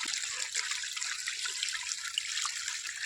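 Low-pressure water trickles and splashes from a pipe in a village setting, a soft continuous dribble heard close and fairly quiet, without speech.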